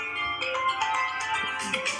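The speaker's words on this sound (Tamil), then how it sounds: "ஃபோன் கால் வருது." Phone ringtone of an incoming call playing a faint, tonal melodic chime in the background, brief and steady with no talk over it.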